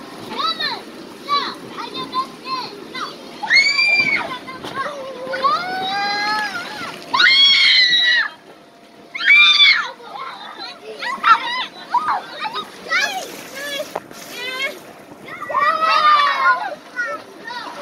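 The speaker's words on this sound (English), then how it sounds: "It's a water slide." Children at a ninth birthday party play on an outdoor water slide, with splashing and sloshing water under frequent excited kids' shouts and chatter, loud and close throughout.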